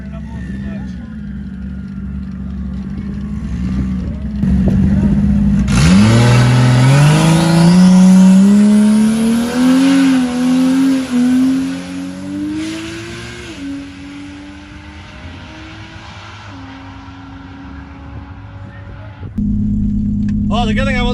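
A race car engine in a cash race idles low, then revs hard and climbs steeply in pitch, holding a loud, strained whine before easing back down to a steady rumble.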